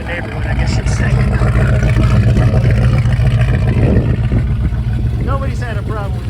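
Close, loud rumble from a 1968 Mercury Cougar's engine revving through its exhaust, a deep throaty drone that holds steady with slight swells, and someone talks over it throughout.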